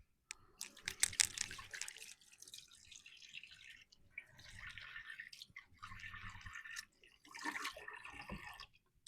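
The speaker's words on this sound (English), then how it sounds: "Let me rinse my hands off real quick" Hands being rinsed under a running kitchen tap, heard as intermittent bursts of splashing and dripping water, fairly close, with short pauses between pours and no talking.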